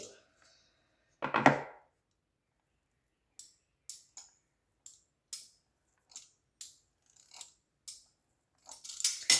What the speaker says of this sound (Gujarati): હવે શક્કરપારાની જો આવી રીતના ચમચીથી કટિંગ કરી લેવાનું છે